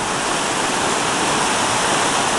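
River rapids at Dolittle Rapids on a gold claim roar in a loud, dense, unbroken rush of churning water that fills the whole span without a voice.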